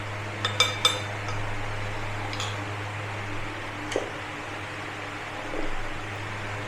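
A utensil clinking lightly in a pan while cornflour is mixed into aloo kofta curry, a few faint scattered taps over a steady kitchen hum.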